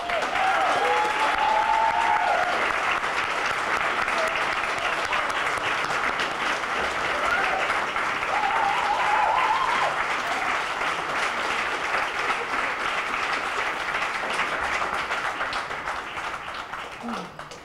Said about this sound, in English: please join me with a big of applause